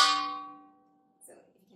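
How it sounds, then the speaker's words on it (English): A single strike on a homemade crash cymbal made from an inverted wok lid rings out bright and metallic, decaying over about a second, followed by a faint clatter. "So you can hear the crash has a louder sound."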